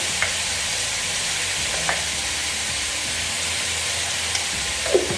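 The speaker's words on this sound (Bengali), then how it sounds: "ফুলকপি আলু দিয়ে তরকারি হচ্ছে" Cauliflower and potato curry fries in a pan with a steady broad sizzle and hiss, while a few faint scrapes of stirring come through close by.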